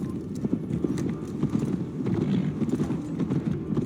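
Horse hooves clip-clop steadily on the ground in Assassin's Creed Valhalla, a close, continuous rhythmic patter over a low ambient rumble.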